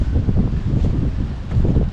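Blustery wind buffeting the microphone, a constant low roar with gusty surges and no voices.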